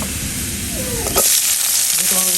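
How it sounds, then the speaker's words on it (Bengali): Onions and chilies go into a pan of frying garlic and cumin, and a sharp jump in hissing marks the moment they land. The sizzle then carries on loud and close with a little clatter from the pan. "এবার আমি পেঁয়াজ মরিচগুলো দেবো অ্যাড করে।"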